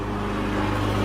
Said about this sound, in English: My neighbor's cutting the grass.